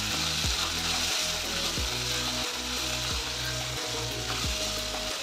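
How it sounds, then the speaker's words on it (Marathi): Onion and tomato masala for pepper prawns fries in a pan, giving a steady loud sizzle with regular scraping strokes as it is stirred and mashed. "टोमॅटोज पण आपल्याला व्यवस्थित फ्राय करून घ्यायचे, स्मॅश करायचे व्यवस्थित"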